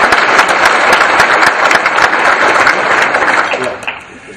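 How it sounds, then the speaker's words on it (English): Audience applause at a First Tee of Fresno charity luncheon, dense steady clapping from a crowd filling the room, loud and sustained before fading out near the end. "You can clap, it's okay."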